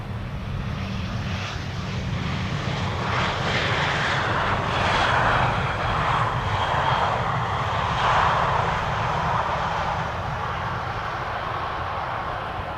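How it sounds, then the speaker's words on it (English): A KLM Embraer 190 jet airliner arriving at Amsterdam Schiphol Airport, its engine roar swelling as it passes at a moderate distance, then easing off, steady and broad with no voices. "we are going to see a KLM Embraer 190 arriving from Bristol, KLM Flight 1076"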